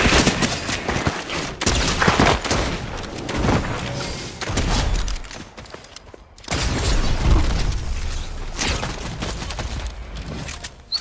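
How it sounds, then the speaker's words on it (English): Loud bursts of gunfire and heavy thuds in a Fortnite match, rapid volleys from an unseen shooter coming and going in dense clusters across the stretch, with brief lulls between. "Somebody's shooting from somewhere, I don't know where."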